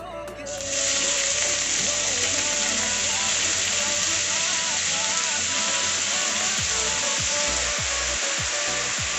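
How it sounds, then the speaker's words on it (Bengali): Chopped cabbage and potato hit hot oil and burst into a loud, steady sizzle that holds unbroken for several seconds, close and dense, with faint clinks underneath. "আগে থেকে ধুয়ে রাখা বাঁধাকপি কুচি আলু কুচি গরম তেলে দিয়ে দিলাম"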